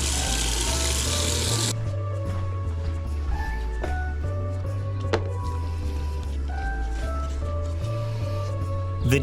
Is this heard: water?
yes